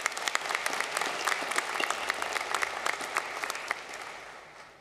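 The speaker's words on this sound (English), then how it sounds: "Can we give them a round of applause, because they're pretty awesome." Audience applause at a university graduation ceremony, a hall full of clapping with distinct nearby hand claps standing out, steady for several seconds before tapering off at the end.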